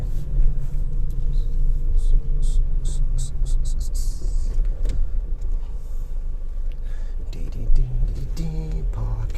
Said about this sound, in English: there's lots of cars coming out of the car park